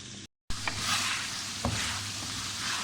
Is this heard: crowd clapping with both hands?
no